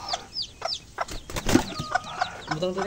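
Soft, repeated clucking from a mother hen close by, with chirpy chick peeps and a rustle of wings mixed in, and faint voices in the background.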